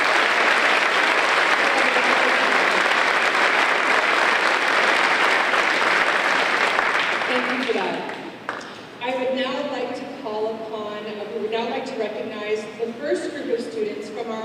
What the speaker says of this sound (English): Can we give all of the support team a big round of applause?